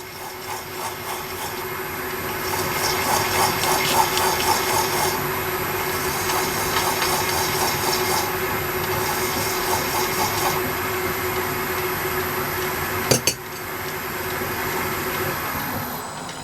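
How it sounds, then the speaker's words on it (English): A hand file rasps over the sharp edges of a small metal lathe dog for a Pultra lathe. The strokes are steady and gritty, close and continuous, with a brief sharp knock near the end. "file, take the sharp edges off."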